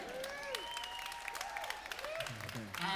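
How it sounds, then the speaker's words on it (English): Faint applause rises from the crowd after the first bout of an all-female Muay Thai fight night, with whistling tones over a steady patter of clapping. "Give another round of applause for them."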